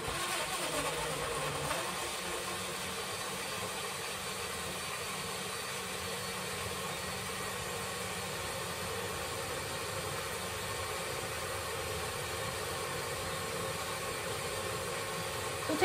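A blender mixing a banana-peach smoothie with orange juice, a loud, steady grinding whir that starts with a brief rise and then holds evenly for a long stretch before cutting off.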